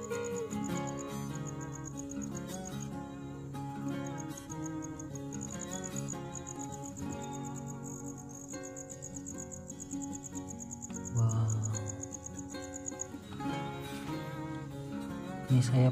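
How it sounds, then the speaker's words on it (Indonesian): Small crickets chirp in a steady, continuous high trill inside a bedroom near their burrow holes, with several insects calling at once amid faint background sounds and a brief low thump. "Ini jangkrik-jangkrik ini kecil-kecil sudah bunyi ya."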